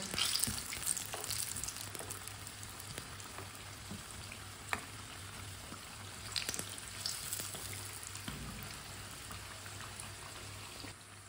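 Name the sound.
chicken tikki patties frying in a pan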